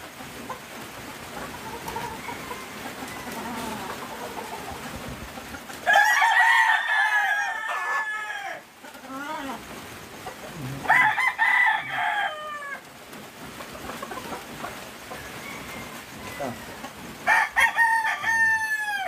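A red Gilmore Hatch game rooster of about 1.8 to 1.9 kilos crows loudly and close by three times, with clucks between calls over a quieter outdoor background.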